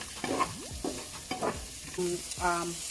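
Bell peppers and frozen mixed vegetables frying in a pan, with a steady sizzle broken by several distinct stirring scrapes and clanks of a utensil against the pan, close and moderately loud, no talking.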